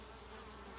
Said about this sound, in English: look at the bees coming in